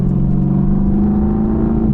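Mercedes-AMG GT R engine from inside the cabin, a loud, steady low rumble with a constant engine drone throughout and no voices.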